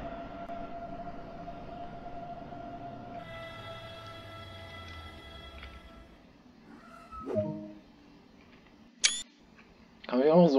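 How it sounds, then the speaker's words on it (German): A camera-shutter click from taking a screenshot in Train Sim World 2, a short sharp snap heard late, over a steady rumble of an S-Bahn train cab with faint hums and tones. "Kann man ja auch noch so einen Screenshot machen."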